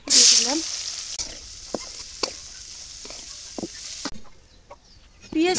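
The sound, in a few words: chopped onions frying in oil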